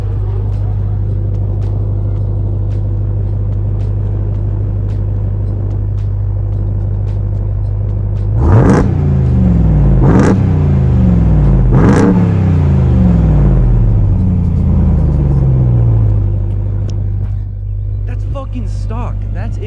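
Supercharged 700-horsepower 2021 Ram 1500 TRX pickup engine idling with a deep low rumble, then three sharp loud revs around the middle that fall back to a rumbling idle.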